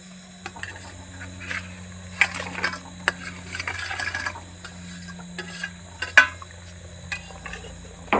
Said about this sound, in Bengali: এখন ভেজে রাখা পনিরগুলো ঝোলের মধ্যে দিয়ে দিচ্ছি।